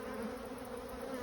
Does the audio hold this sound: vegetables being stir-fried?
no